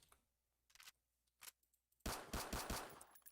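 An M9 pistol fires in Roblox: a few scattered single shots, then a rapid loud run of snappy reports in quick succession, close and dry, with no voice.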